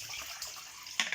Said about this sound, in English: So now I'm just going to pour this through